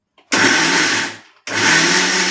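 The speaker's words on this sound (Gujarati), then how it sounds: "વધેલા ભાત અને સાથે હું એક લીલું મરચું છે તે એડ કરી અને તેની સ્મૂથ પેસ્ટ તૈયાર કરી લઈશ મિક્સરમાં" A kitchen mixer grinder blends leftover cooked rice with a green chilli into a smooth paste, running as two loud whirring bursts separated by a brief pause, with no talking.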